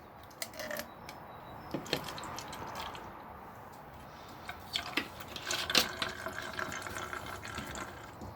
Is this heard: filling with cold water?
yes